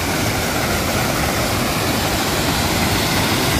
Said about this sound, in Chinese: 看看这里这么壮观的瀑布，太壮观了